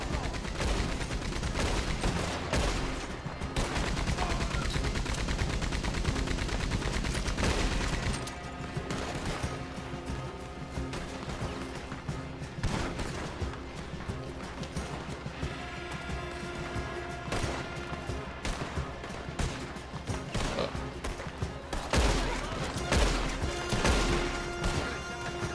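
Gunfire in Red Dead Online, a dense, loud, continuous barrage of shots and crashes with rapid volleys throughout, with voices talking underneath.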